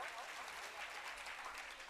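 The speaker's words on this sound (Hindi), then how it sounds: "ताली बजाओ।" Audience at a Jain spiritual discourse clapping on cue, a faint, steady patter of many hands with light background murmur.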